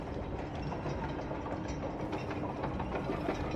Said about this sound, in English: So that's powering the train tracks, so I can move this.